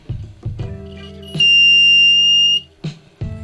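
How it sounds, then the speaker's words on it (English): Piezo buzzer fitted to a Velleman K7102 metal detector kit sounds a steady, loud high-pitched tone for about a second, after shorter clicks and hums from handling the kit, then brief bumps. "The buzzer is installed."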